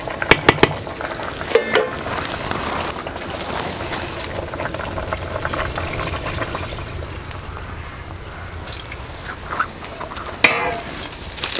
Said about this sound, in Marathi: आता ह्यात गरम पाणी ओतायचं